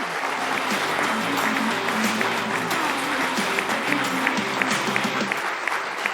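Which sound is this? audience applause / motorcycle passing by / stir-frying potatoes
audience applause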